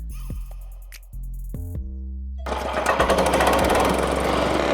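A tea plantation cutting machine starts up with a few stuttering pulses, then runs as a loud, rapid mechanical rattling drone, close and continuous.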